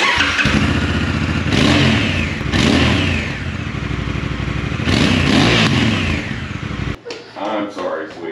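A Honda Africa Twin motorcycle with a modified exhaust revs loudly and close in several sharp bursts that climb and fall, over a steady idle. The engine cuts near the end, followed by a brief bit of speech.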